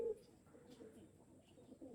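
Domestic pigeons of imported racing bloodlines coo softly in a breeding loft, low murmuring calls close by and fairly quiet, with no talk over them.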